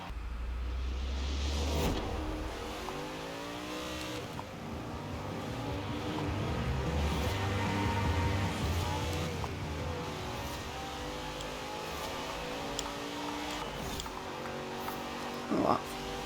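Racing cars in Forza Horizon 4, including a Koenigsegg, a Corvette and a 458, rev and roar with engine pitch rising and falling through gear changes. A person talks over the engine noise.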